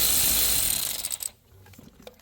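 A socket wrench working a nut off a Jeep engine during removal for an LS swap gives a short burst of dense, rasping ratchet clicking, close and loud, that cuts off abruptly and leaves a few faint metallic taps.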